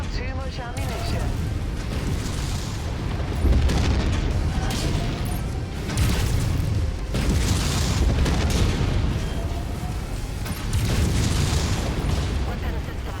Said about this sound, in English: While they shoot off their shotguns.